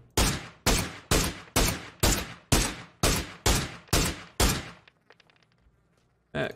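Gunfire in PUBG, ten evenly spaced loud shots in a steady rhythm, each trailing off, followed by faint clinks and one final shot.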